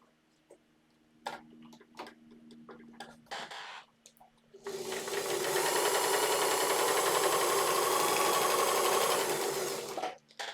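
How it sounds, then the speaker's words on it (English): A sewing machine runs continuously for about six seconds while stitching a seam on swimwear, a fast, steady whirring buzz. Scattered clicks and light handling noises come before it starts. "I'm going to sew this little seam."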